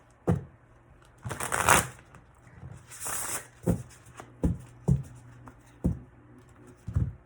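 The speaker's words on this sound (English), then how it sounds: "2 more shuffles." Tarot cards are shuffled several times, producing quick riffling bursts and soft taps spaced out in a quiet room, close by.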